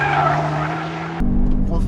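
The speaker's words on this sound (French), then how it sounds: "Gros freinage. Putain ça freine hein." A Cupra Formentor 310 brakes hard on a circuit with a loud, steady tire squeal over road and engine noise, ending abruptly in a low rumble.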